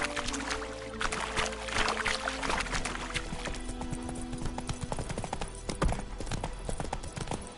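Roach, a horse in The Witcher 3, clip-clopping steadily along at a walk, the hoofbeats close and clear over a bed of ambient game sound, with a brief whinny-like note early on.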